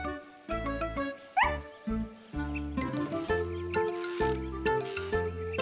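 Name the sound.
cartoon dog barking happily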